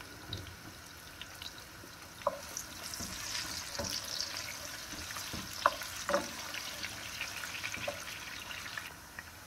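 Spices and onions frying in hot oil in a pot, a continuous soft sizzle with scattered sharper pops and crackles throughout.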